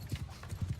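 Horse archers' hooves clop at a fast gallop in the medieval battle game Bannerlord, a rhythmic run of soft thuds over a quiet background of battle ambience, fairly faint.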